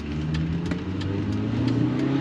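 A 1988 BMW E30 M3's four-cylinder engine revs steadily from inside the car while short shifting around 4,500 rpm on cold oil, a continuous buzzing drone with rising pitch and faint clicks.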